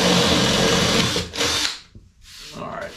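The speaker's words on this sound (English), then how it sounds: "So I'm just gonna drill a couple of holes here" A power drill bores a couple of holes for pendant light wiring in a boat, a loud continuous whine for over a second that cuts off, followed by quieter tool noise with a voice nearby.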